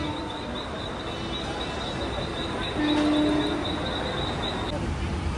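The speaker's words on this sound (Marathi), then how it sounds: "आता लोकल ट्रेन येत आहे।" A steady rumble of a Mumbai local train rolling into Mulund station, with a thin high whine and a brief low tonal hum midway, filling the whole stretch.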